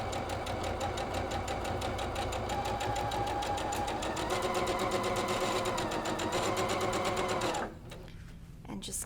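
A sewing machine runs steadily, stitching along the edge of a quilt block in a fast, even mechanical chatter, then stops abruptly near the end, leaving a quieter room tone.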